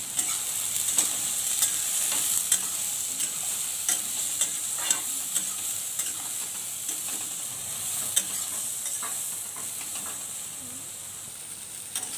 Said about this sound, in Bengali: তো এটা আমি তেলের মধ্যে ভালো করে ভাইজে নিব এখন।